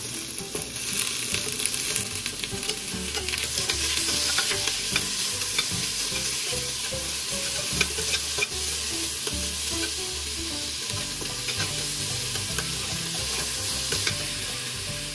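Tomatoes going into a pan with onion for a Tom Yum-style seafood soup, a loud continuous sizzle with scraping stir strokes throughout, close up and without talk.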